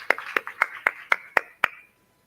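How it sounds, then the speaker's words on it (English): Seven sharp, evenly spaced claps ring out at a steady rhythm, a single person or small group clapping at a mobility conference panel before the sound stops abruptly. "We can please welcome them with a round of applause."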